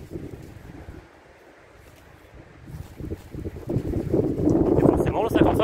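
Gusty wind buffets the microphone on a golf course during a nine-hole round, dropping to a lull before swelling into a loud, rumbling roar toward the end.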